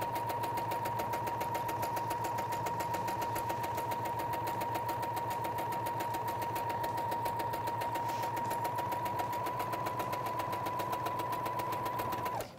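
A sewing machine stitches a ruffled placemat, running as a steady, fast mechanical whir with a constant hum and rapid needle ticking, close and alone, stopping at the very end.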